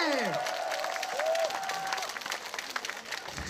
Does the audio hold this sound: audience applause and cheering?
yes